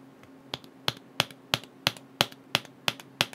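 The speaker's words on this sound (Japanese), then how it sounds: "キーボードというより電卓に近くて、これ音わざと出してるんですかね。" Keys tapped on the new iPad Pro keyboard, about nine sharp, loud clicks spaced almost evenly and heard up close with no talking.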